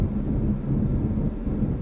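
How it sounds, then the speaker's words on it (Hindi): Road noise inside a Citroen C3 Aircross cabin with the windows closed while driving, a low, steady rumble and drone with no speech, continuous and moderately loud. "सेकेंड ये आप कैबिन की नॉइज़ सुन सकते हैं"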